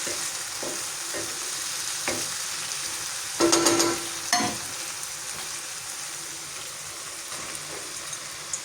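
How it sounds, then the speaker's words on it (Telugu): Chopped bitter gourd pieces sizzling in tomato masala in a pan, a steady close frying hiss with a few spoon taps and a louder burst of stirring midway, no voices. "ఇప్పుడు ఇందులో మనం చాప్ చేసుకున్న కాకరకాయ ముక్కలు అయితే వేసుకోవాలి"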